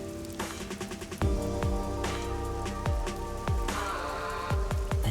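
Rain falls over the city streets of Kamasaki District in the video game Master Detective Archives: Rain Code, a steady patter with distinct droplet splats landing close by over a soft tonal background.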